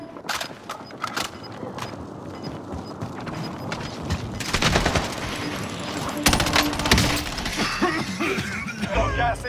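Gunfire cracks down from enemies on a rooftop in Call of Duty: Modern Warfare, arriving in irregular bursts that grow denser and louder midway, mixed with clatter and occasional voices.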